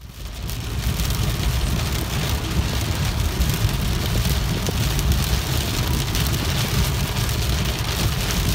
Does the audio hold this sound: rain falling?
yes